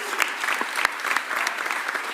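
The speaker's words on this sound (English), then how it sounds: "Give Howie a round of applause." A crowd applauds general manager Howie Roseman at a Philadelphia Eagles Super Bowl parade announcement, a loud, sustained clapping with a few sharper claps standing out.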